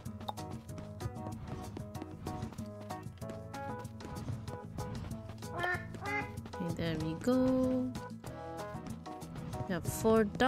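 Cartoonish duck quacks from the farming video game Spirittea sound in a bouncy, repeated pattern over background game music, with a few brighter quacks near the end.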